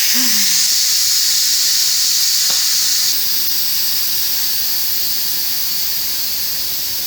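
A loud, continuous high-pitched hiss of steam venting from a pressure cooker during quick release, with a brief squeal at the start, slightly easing after a few seconds.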